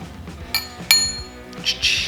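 Glass clinks against glass a few times while Wolf Moon, a sweet tea bourbon cocktail, is mixed over ice, the sharp bright chimes close and separated by short pauses over a low, quiet background.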